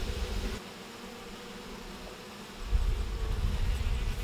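Wild honey bees buzzing inside a neighbor's wall, a dense continuous droning hum that rises and swells louder in the second half, with no voices.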